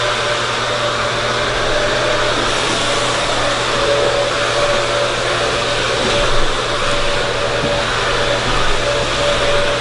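A hair dryer blows steadily and loudly on a freshly cut razor bob, holding a constant close-range whoosh with a faint steady whine and no breaks.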